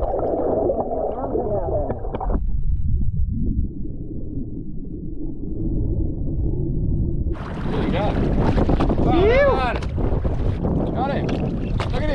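Strong wind buffets the microphone on open sand flats during a light-tackle fishing outing, a steady roaring rumble that swells louder in the second half, with people talking over it.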